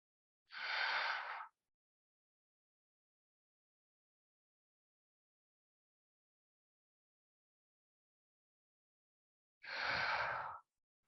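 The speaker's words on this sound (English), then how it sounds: "take a breath in through your nose and exhale out of your mouth" A person breathes slowly in through the nose and out through the mouth during a hatha yoga session, two soft breath sounds about nine seconds apart, close and alone with silence between.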